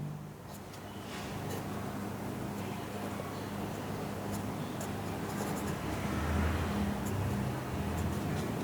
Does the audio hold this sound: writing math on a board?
yes